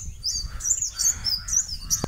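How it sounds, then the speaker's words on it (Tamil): Sparrows chirp in short, bright bursts of several calls outdoors at a temple site, fairly close, with a faint background hum. "குருவி"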